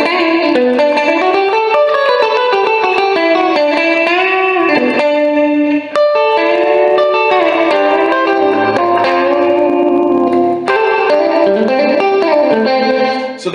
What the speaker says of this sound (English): This is the room reverb.